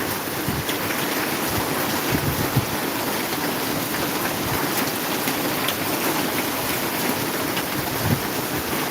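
Steady rain pours down in Maharajpur, a dense even hiss of drops hitting surfaces, with occasional heavier spatters and no voices.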